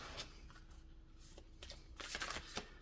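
A deck of oracle cards shuffled in quick riffling bursts, with soft flutters of card edges and louder clustered snaps near the end, close and clear over a quiet room.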